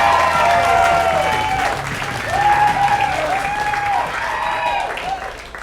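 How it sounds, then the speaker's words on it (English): Comedy club audience applauds and cheers a comedian at a bootcamp show, a dense, loud burst of clapping with whoops and voices riding over it, holding steady throughout. "How about a big round of applause for Jamison?"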